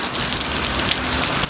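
Rain pours loudly and steadily close by, a dense hiss of drops hitting a surface with no speech over it.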